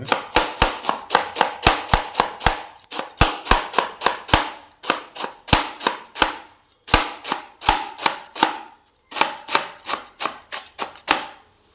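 A knife chops through a cabbage on a cutting board in rapid, sharp, evenly spaced strikes, close and crisp, in several bursts with short pauses between them and no talking.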